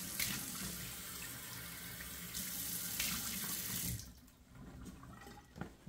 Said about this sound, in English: let me turn on the cold water here